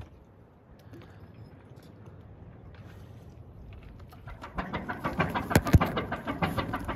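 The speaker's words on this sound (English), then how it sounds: "So look at this beautiful ship that just came in. Listen to the engine and that." Ship's engine as a vessel comes into harbour at La Gomera, a low steady rumble that grows louder and more rhythmic toward the end, with no talk over it.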